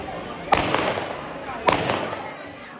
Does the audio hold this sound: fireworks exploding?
yes